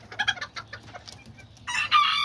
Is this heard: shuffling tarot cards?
no